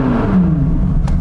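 Chevrolet C8 Corvette Z06 engine heard from inside the car, a loud rising rev with a smooth whirring tone over a deep rumble, lasting about a second.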